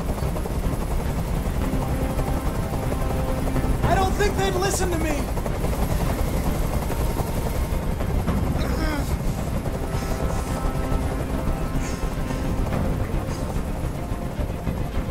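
A helicopter hovers overhead in the video game Detroit: Become Human, a loud, constant rotor drone filling the whole stretch while someone speaks briefly over it.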